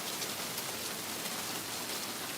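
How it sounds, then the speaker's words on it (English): Rain falls in a steady, even hiss throughout, fairly faint and diffuse, with no voices or other distinct sounds. "Here come the rain from Granny Rockin' Chair. It's about to happen."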